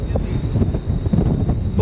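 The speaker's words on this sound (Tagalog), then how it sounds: "Malakas ang hangin." Strong wind on a ship in the Strait of Magellan buffeting the microphone in a steady low rumble, with a faint high whine running underneath throughout.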